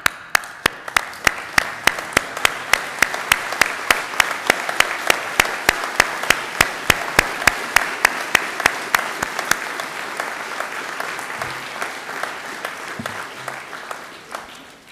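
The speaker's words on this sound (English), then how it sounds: "if the graduands, if you would please stand up and applaud each other for your success" Graduates at a university biological sciences graduation ceremony applaud one another, producing dense, steady clapping from a large group that holds strong for about ten seconds, then gradually thins and fades.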